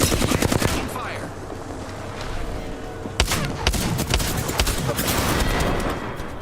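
Gunfire in a shooter video game, rapid bursts of automatic fire and sharp shots in dense clusters, loud and close, with a sudden heavy blast partway through and more volleys after.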